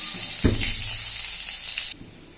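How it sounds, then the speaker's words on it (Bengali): Dried chilies dropped into tempered hot oil in a wok give a sudden loud burst of hissing. A bright, steady sizzle follows close by, then cuts off abruptly near the end. "এই যে ফোড়ন দেওয়া তেল দিয়ে দিয়েছি কড়াইতে, শুকনো ঝাল দিয়ে দিলাম।"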